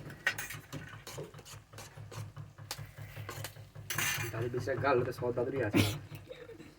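Eggs being whisked for scrambled eggs in a bowl, with a run of quick clinking scrapes of utensil against the dish, loud and close, mixed with kitchen clatter and talk.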